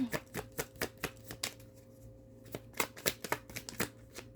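Tarot cards are drawn and shuffled from a deck, with quick crisp papery flicks and slaps in an irregular burst, a short pause, then another flurry, close to the microphone.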